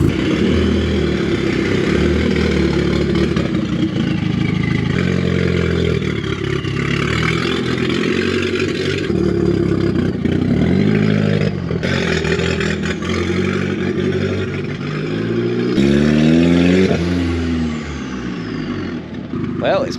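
A loud, raw 1.8 20-valve turbo engine in a Mk3 Golf GTi, running without exhaust, rumbles and revs up and down nearby, with a voice talking intermittently over it.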